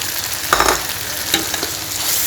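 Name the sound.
stir-frying mutton in a pan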